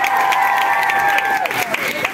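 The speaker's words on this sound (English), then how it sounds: "Round of applause for Susie Walsh, my stylist, who made this." A concert audience at Concorde 2 in Brighton claps and cheers loudly for a couple of seconds, a sustained tone running underneath the applause.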